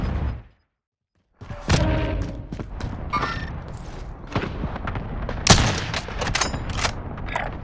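Full-auto TEC-9 bursts in Call of Duty Warzone, close-quarters fire that breaks in after a brief silence, then repeated sharp volleys with a loud burst in the second half.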